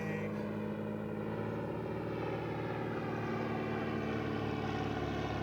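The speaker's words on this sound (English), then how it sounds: "Airplane." A steady droning propeller plane engine hums overhead near a small regional airport, heard from a fishing boat, constant and fairly loud throughout, with no voices.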